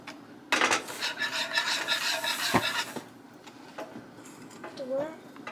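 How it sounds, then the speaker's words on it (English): A whisk scrapes rhythmically against a pan of heating sugar, quick close metallic rubbing strokes that fade into a few lighter scrapes and faint clinks. "I'm gonna go ahead and switch over to the whisk"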